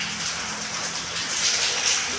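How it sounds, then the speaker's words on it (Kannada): Heavy rain pours down in a dense, steady hiss close by, with a faint voice just beneath it. "ಮಳೆ ನೋಡ್ರಿ ತಂಪು ನೋಡ್ರಿ ಎಷ್ಟು ಹೊಡ್ಯಾಗತ್ತೈತಿ ಇದನ್ನೆಲ್ಲ"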